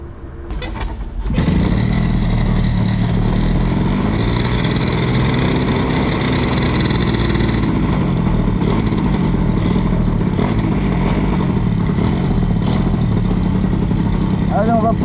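A KTM 65 SX motocross bike engine runs steadily and loud after a brief choke start, a constant buzzing drone with faint rattling throughout.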